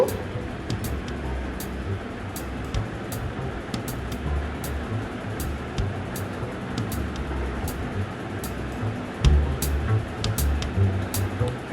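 A pot of fish curry with pre-fried small fish bubbles at a boil in its gravy. A continuous rushing simmer is dotted with sharp little pops, swelling slightly louder near the end.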